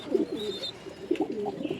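A female pigeon coos softly and close by in two short bursts of low, throaty notes, separated by a brief pause.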